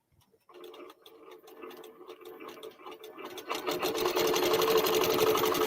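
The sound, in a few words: QBOT V3 quilting machine stitching a mug rug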